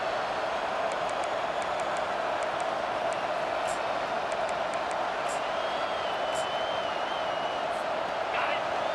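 A home crowd roars in the EA Sports College Football 25 video game as the defense faces third down, a dense, steady, loud wash of cheering with sharp high whistles cutting through.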